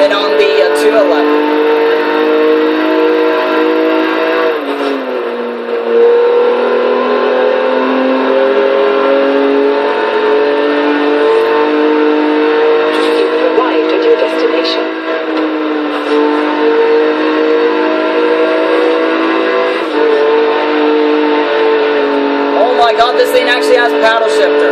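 Engine of a Lotus 3-Eleven driven in first person in Forza Horizon 3, a loud steady drone with shifting pitch and brief dips at gear changes, running continuously under a talking voice.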